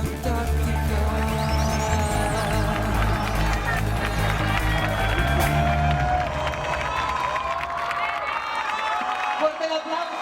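A crowd claps and cheers with whoops for the Arte de Trans cooperative at a lively community event, the applause mixed under music, amplified talk and general crowd noise throughout.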